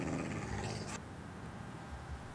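A dog in a video game gives a low, rumbling growl over a steady background ambience, fairly quiet and close, with no talking.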